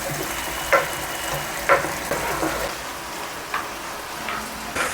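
Vegetable manchurian fries in a pan with vinegar and soy sauce while it is stirred, giving a constant close sizzle broken by several spatula scrapes and taps at a slow, irregular pace.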